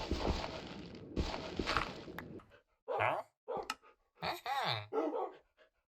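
Dogs in Minecraft give several short, separate barks in quick succession, close and fairly quiet, following a stretch of busier game noise.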